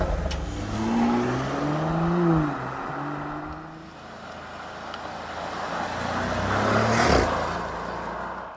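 Porsche Cayenne engines, a 3-liter V6 and a 4-liter V8, rev and idle with rising and falling pitch, then a sharper, louder blip of throttle near the end, heard up close.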